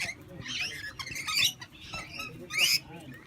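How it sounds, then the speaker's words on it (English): Birds chirp and squawk around a campsite at Belyando Crossing in Queensland, with bright scratchy calls in short bursts rising over low background rustle, fairly close and moderately loud. "These birds are just running around."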